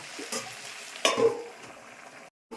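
Vegetarian food cooks in a pan just after a spoonful of sugar goes in, with a soft sizzle and a couple of spatula stirs and scrapes, then a brief silence near the end.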